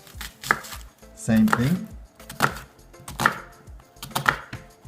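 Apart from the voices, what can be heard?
knife chopping onion on cutting board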